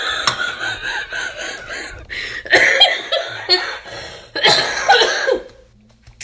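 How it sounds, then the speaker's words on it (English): A person coughs repeatedly in a prolonged fit, with harsh bursts in irregular clusters, some throat clearing, and near, loud peaks separated by short pauses. "I'm still coughing."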